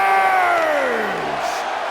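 Video game arena crowd from WWE 2K18 roaring and cheering loudly and steadily throughout, with a sliding entrance-music tone falling beneath the noise as the excitement continues without pause.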